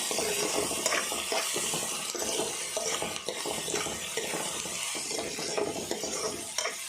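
Sliced onions sizzle steadily in a hot pan with a little salt while a spatula scrapes and stirs them in quick, irregular strokes, close and continuous with no talking.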